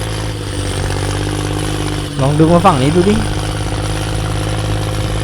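Farm tractor engine labouring while pulling a mired trailer dump truck on soft ground, a loud, steady close-up chugging drone throughout, with someone speaking briefly over it partway through.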